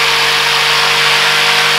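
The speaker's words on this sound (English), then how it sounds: "Get the power tool. Let's get these curved holes cut out then." A power tool cuts curved holes in wood while building a fishing rod rack, giving a loud, steady whine with a constant pitch and no talk over it.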